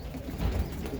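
Racing pigeons in a loft cooing softly at close range, a low murmuring coo rising and falling over steady loft ambience with no talk.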